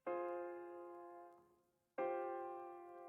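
Two dark minor triad chords on an emotional Noir Pure piano preset in FL Studio, each struck and left to ring with a slow decay, the second following after a brief gap, played alone without speech.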